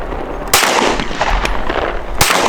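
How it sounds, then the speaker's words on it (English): Two loud gunshots ring out about a second and a half apart, fired outdoors at an old cardboard box, with steady background noise between the blasts. "Shooting that old box."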